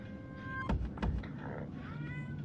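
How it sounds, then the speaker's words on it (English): A pet cat meows twice in quick succession, a short moderately loud mew followed by another, over a steady background hum during a game livestream. "Oh, if you hear meowing, that's my cat."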